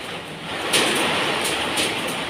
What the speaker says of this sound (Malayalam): ഐസ് മഴയാണേ